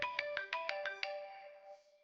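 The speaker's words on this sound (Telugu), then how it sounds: "మిత్ర ఫోన్ చేస్తున్నాడండి." A phone ringtone plays a quick, bright melodic run of tones, then a final note fades out; no one speaks.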